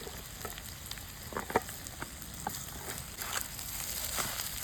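Egg, thecha and rice being mixed in a hot pan, giving a steady low sizzle with scattered soft scraping and stirring clicks throughout, no talking.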